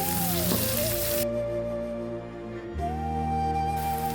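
Whole spices — soaked cinnamon, cloves and cardamom — fry in a pan for a soya curry, giving a steady close sizzle with a faint tonal hum in the background.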